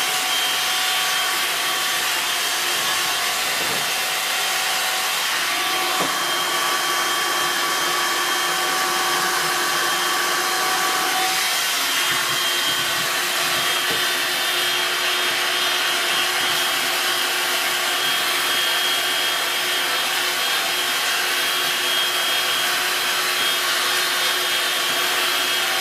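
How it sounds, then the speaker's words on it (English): Steady, loud whine of a vacuum cleaner sucking up fluff around a Hoover Dynamic Mega 10kg condenser tumble dryer, running continuously and close with slight shifts in pitch as the nozzle moves. "I think we need to just vacuum off around here as well first"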